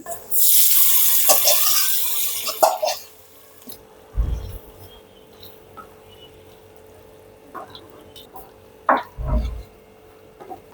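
Hot spice tempering is poured into pumpkin curry, bringing a loud sizzling hiss near the start, then quieter stirring and a couple of low thumps from the pan.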